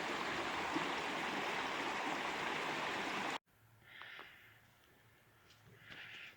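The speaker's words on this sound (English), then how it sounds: "We're right beside a much wider body of water here. It's the same creek" A creek in Paris Mountain State Park flows with a steady, broad rushing hiss, loud and close for the first few seconds, then quieter and more distant with faint gurgles after an abrupt cut.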